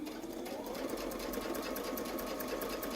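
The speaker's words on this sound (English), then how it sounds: "And I'll sew the next feather." Sewing machine stitching a feathered leaf quilting design, running steadily and alone at a fast, even stitching rhythm throughout.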